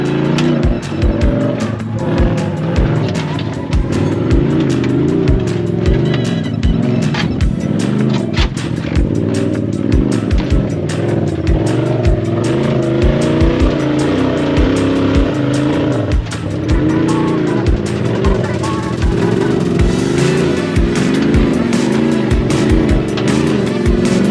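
A UTV on sticky tires crawls up rocks, its engine droning loud and steady throughout with repeated revs and surges as it climbs, plus sharp scrapes and knocks from the tires on stone.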